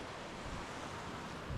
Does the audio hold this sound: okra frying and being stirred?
no